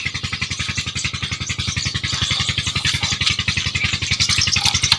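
A motorcycle engine runs steadily with a rapid, even pulsing throb and light mechanical clatter, close and loud, gradually building as it rides along.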